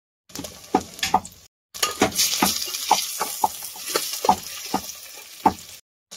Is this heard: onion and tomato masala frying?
yes